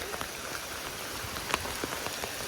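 Steady rain pattering on a surface, with scattered individual drops ticking out over a dense wash of noise and no voices.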